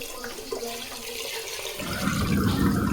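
Water pours into a cooking pot of vegetables in a home kitchen, a steady splashing rush that swells louder partway through and continues alone.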